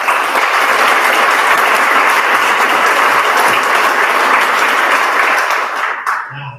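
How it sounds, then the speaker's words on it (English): Crowd at a senior signing day for school athletes giving a loud, dense round of applause that holds steady for about six seconds and then fades quickly, followed by a brief voice. "So give every single athlete up here a round of applause, please."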